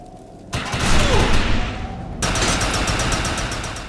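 Overcharged weapon fire in the video game Defiance comes as a loud, dense stream of rapid shots with mechanical whirring. A brief dip around the middle leads into a second sustained burst.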